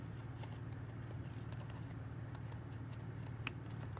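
Scissors snip through thin cardboard during a cigar wrapper recycling craft, a soft steady series of cuts close by over a constant low hum, with one sharper click near the end.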